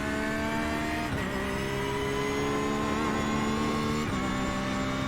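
A Porsche race car in iRacing during a 24-hour Nürburgring race drones at steady high revs, then blips down through the gears under braking, with two sharp pitch drops as the engine note falls and climbs again, loud and continuous.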